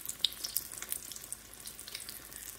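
Low carb beignet dough frying in hot oil in a home kitchen, a faint, steady crackling sizzle with scattered pops, heard alone.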